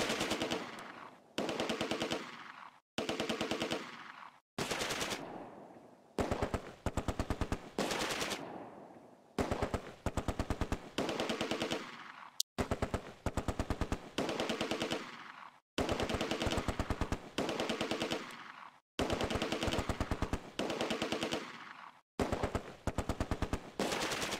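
Vickers machine gun fire in the Close Combat: A Bridge Too Far wargame, set at Arnhem: a rapid series of loud, sustained bursts, roughly a dozen long volleys separated by short gaps, with no voices.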